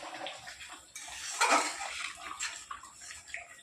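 Gravy for prawn malai curry bubbles as it boils in a pot, a soft, irregular gurgling and popping with a few brief louder splashes, heard close and alone.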